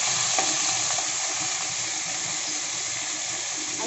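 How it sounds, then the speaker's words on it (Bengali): Chicken pieces dropped onto tempering spices in hot oil give a constant loud, hissing sizzle up close, with no voices over it. "এখন আমি এখানে ফোড়নের উপরে ডাইরেক্ট মাংসটাকে চাপিয়ে দেবো"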